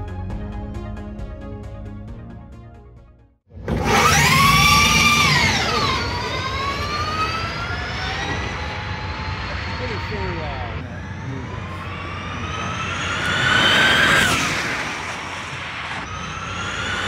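An ABB No. 35 all-electric NASCAR prototype race car drives past, its high electric motor whine rising and falling as it passes loudly and then continues at a steady pitch, with a second swelling pass later.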